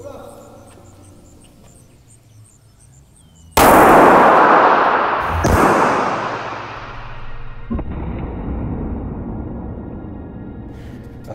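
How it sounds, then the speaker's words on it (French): A chain of about 33,000 firecrackers bursts suddenly into loud, dense crackling explosions close by, then settles into a long, fading rumble. "J'ai jamais vu autant de pétards de ma vie"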